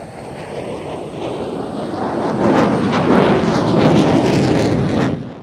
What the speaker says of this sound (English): This is the second of the F-16's 360, which, as I say, was a bit quicker.